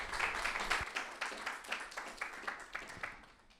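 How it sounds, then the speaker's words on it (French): Short applause from a small conference audience at an esports and sports marketing event, scattered distinct claps at moderate volume that thin out over a few seconds. "vous pouvez l'applaudir"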